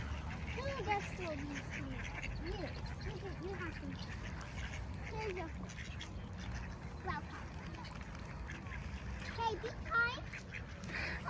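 Ducks in Canada quack and splash in the water as they are fed, with frequent nearby calls over steady outdoor background noise while adults and someone talk throughout.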